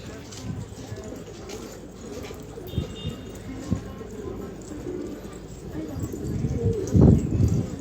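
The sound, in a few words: pigeons cooing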